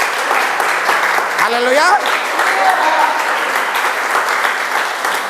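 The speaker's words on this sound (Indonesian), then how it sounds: "Berikan sorak-sorai buat Tuhan yang dahsyat luar biasa" Congregation at an Indonesian church youth service breaks into steady, loud applause and cheering for God, a dense roar of clapping and shouting voices with a lead voice calling out over it.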